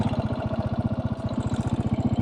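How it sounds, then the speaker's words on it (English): Single-cylinder Janus Halcyon 450 motorcycle, an engine of about 440 cc, running steadily alone with a loud, close, evenly pulsing exhaust thump and no talk over it. "440 some cc single cylinder engine."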